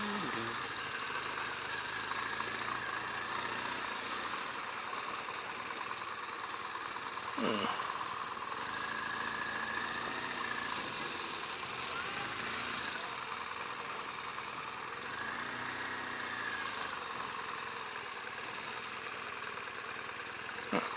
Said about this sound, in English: It's got that nice burbly boxer sound to it.